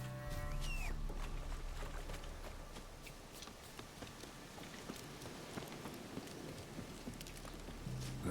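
Steady rain falls in a monster-hunting video game, a dense, even hiss of drops on surfaces with scattered louder patters throughout and a brief tonal chime near the start.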